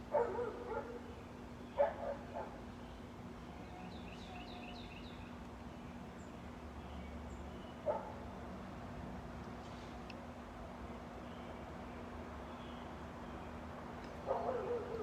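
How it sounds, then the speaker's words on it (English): A dog barks a few times at a distance in short separate bursts, faint over a steady background hum, with a bird chirping briefly in between. "That dog."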